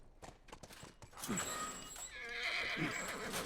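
A horse in The Last of Us video game gives a loud, shrill whinny after a few soft hoof clops and a snort, heard close against low game ambience.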